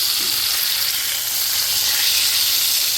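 Fish shallow-frying in a small amount of oil in a pan for a spicy pepper masala, giving a steady, close, dense sizzle and hiss that holds evenly throughout with no talking.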